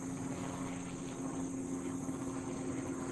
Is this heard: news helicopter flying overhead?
yes